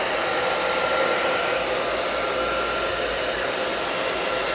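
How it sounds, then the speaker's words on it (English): A hair dryer blows with a steady, loud whooshing roar and a faint motor whine, running continuously without pause. "So I keep my hair dryer in my art studio."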